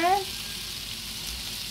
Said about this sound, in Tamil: சிக்கன் ரெடி ஆகிட்டுதாங்க, பொரிக்க போகிறேன்.